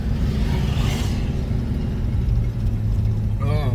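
A project truck's engine drones steadily while driving, a loud low rumble with road noise that stays constant, and a voice speaks briefly near the end.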